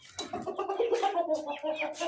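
Chicken clucking and squawking close by as it is released from its pen in a village, a steady run of calls over about two seconds.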